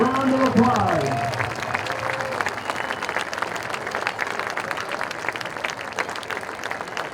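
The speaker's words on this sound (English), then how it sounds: "Please give Mitch and Coach Tackleton, Tony Baker's representatives, a big Burlington Greyhound round of applause" A football stadium crowd at a high school varsity game applauds, dense sustained clapping rolling on at moderate loudness after a brief announcer's voice at the start.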